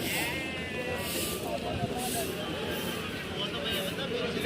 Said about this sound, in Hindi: ये थे भाई वो भेड़े।